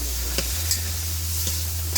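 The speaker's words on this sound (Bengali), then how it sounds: "কষিয়ে নেব আর কি ভালোভাবে।" Vegetables mixed with turmeric, coriander and cumin stir-fry in a pan, giving a steady close sizzle with a few sharp scrapes of stirring over a low hum.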